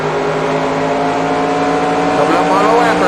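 Race car engine in NASCAR Racing 2003 video game, a loud steady roar with harmonic drone that rises slightly near the end as the car gets back on the throttle, with voice talking over it.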